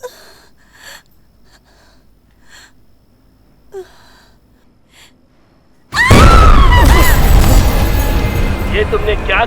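A bomb blast in an Indian action film scene, set off when a wire is cut: quiet tense breathing and gasps, then a sudden loud, booming explosion that roars on with a long rumbling tail.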